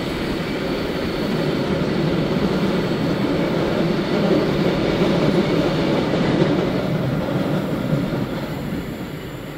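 Steamrail's Otway Explorer runs on the regional fast rail line out of Melbourne toward Geelong, a loud, continuous rumble and roar of carriages on track with faint clickety-clack, heard from on board with no voices.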